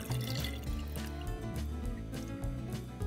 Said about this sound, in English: I'm just going to keep filling with water until I have reached that line.